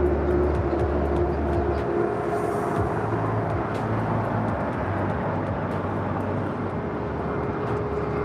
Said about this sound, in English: Air Premia at the Dreamliner, rolling down 25 left, 24 left there on the north side.